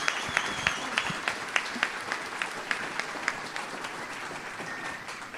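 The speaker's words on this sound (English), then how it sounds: "One more round of applause for Lisa DeLauro, Frances," Community awards-show audience applauds performers, with crisp, rhythmic nearby claps standing out over a broader crowd clapping that continues evenly to the end.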